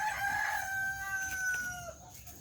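A village rooster on a home poultry farm gives one drawn-out cock-a-doodle-doo crow, moderately distant and fairly faint, with no other sounds around it.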